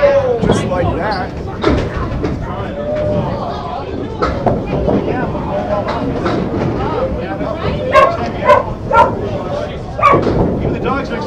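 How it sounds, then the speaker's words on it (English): Dogs bark in short, sharp bursts at a bowling alley during a US Invitational match, mixed with rumbling lanes, crowd noise and talking voices. "Even the dogs are excited."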